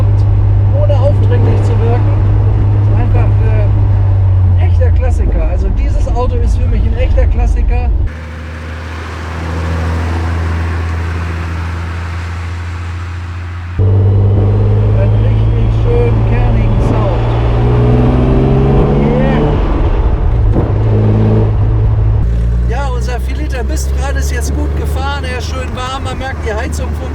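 A 1970 Maserati Mistral Spyder 4000 drives along with its engine droning steadily, briefly dropping then rising again, while someone talks over it throughout.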